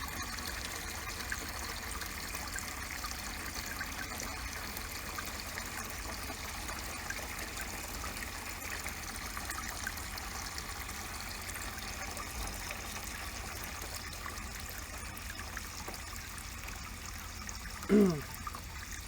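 Water runs steadily into a roughly 70-gallon animal watering tank on a DIY auto-filling system, a constant trickling wash throughout with one brief knock near the end.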